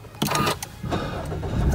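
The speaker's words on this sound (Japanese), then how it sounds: "エンジンかけます。" A car engine cranks and catches from inside the cabin on a hot day, with sharp bursts of starter noise followed by a steady, close running rumble.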